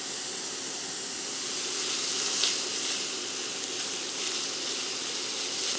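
Potato pancakes frying in a skillet give off a steady, continuous sizzle and hiss at moderate loudness, with no voices.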